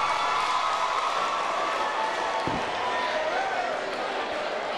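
Steady applause and crowd noise for Earvin "Magic" Johnson during a visit to Gadsden High School, a dense continuous patter filling the room at a moderate level throughout.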